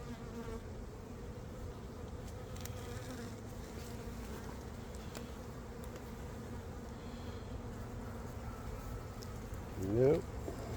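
Honey bees drone steadily during an open hive inspection over a frame of drone brood, a dense continuous hum close by with a brief louder buzz near the end.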